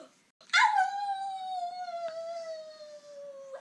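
A voice imitates a wolf howling: one long, close, sliding tone that starts high and slowly falls, held for about three seconds.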